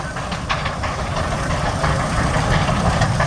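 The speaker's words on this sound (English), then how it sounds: "You won't see an engine working as hard as that in many places." A steam engine labours hard at a steam show, giving a loud continuous heavy rumble that holds steady and swells slightly toward the end.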